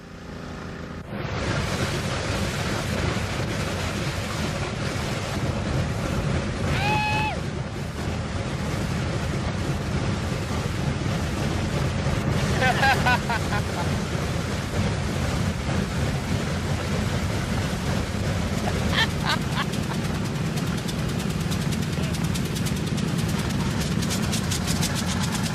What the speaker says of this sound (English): Darrell climbs into the cockpit, and the first engine is turned over.